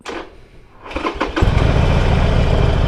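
A 2021 Harley-Davidson Sportster motorcycle engine cranks with a few short coughs, then catches and settles into a loud, steady rumbling run.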